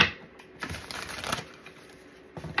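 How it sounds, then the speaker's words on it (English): A tarot card deck is shuffled by hand in bursts of crisp riffling and flicking, close and fairly loud, with short pauses between the passes. "This one's tough to shuffle,"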